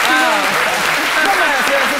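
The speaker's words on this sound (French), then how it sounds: "on applaudit très fort pour Docteur" An audience on a French midday TV show applauds loudly and steadily, with cheers and whoops mixed into the clapping throughout.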